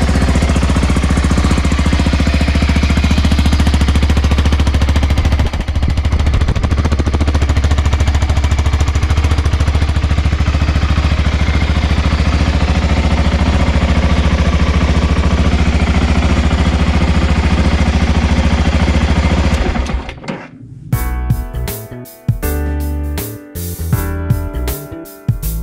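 A BMW F 650 GS motorcycle engine idling just after starting, a loud, steady, close-up drone that holds for about twenty seconds before cutting abruptly to a different, choppier sound.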